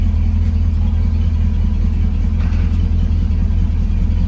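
A car engine with a worn left motor mount idles steadily nearby, a loud continuous low rumble with no talk over it.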